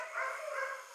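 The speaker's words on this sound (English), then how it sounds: "We've got the big one, Wookie, barking like a good one in the house." A big dog named Wookie barks inside a house, heard from outdoors as a short, muffled, steady burst through the walls.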